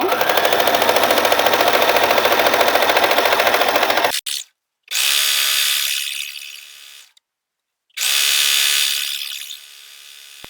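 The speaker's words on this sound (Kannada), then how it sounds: "ನೀಟಾಗಿ ಹಿಂಗೆ ರೋಲ್ ಮಾಡ್ಕೊ ಬರಬೇಕು ಸ್ವಲ್ಪ ರೋಲ್ ಮಾಡ್ತಾ ಮಿಷಿನಿಗೆ ಕೊಡಬೇಕು" A sewing machine runs loud and close while stitching a rolled picot edge on a saree fall, with one long motor run of about four seconds followed by two shorter bursts separated by silences.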